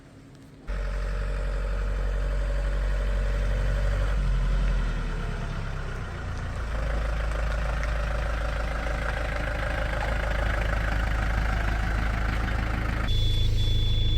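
A camping-car's diesel engine idles steadily, a loud, close, low rumble that runs almost the whole time with only a brief dip in level midway.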